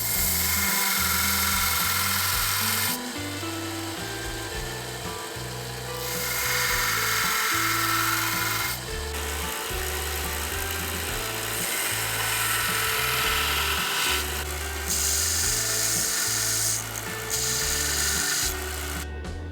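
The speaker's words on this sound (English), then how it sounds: "I used a fresh 60 grit belt to grind my bevels in." A belt grinder with a fresh 60 grit belt grinds the bevels of a small forged knife, giving a harsh whirring rasp in repeated passes of a few seconds each, loud and close, with brief pauses between.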